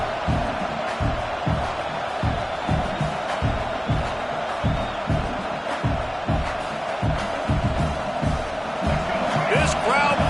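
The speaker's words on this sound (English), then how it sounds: "This crowd bringing the energy and noise early." A stadium crowd in an NCAA college football video game roars steadily throughout, dense and sustained, with rhythmic thumps and clap-like hits pulsing beneath the constant cheering and a faint whistle-like tone near the end.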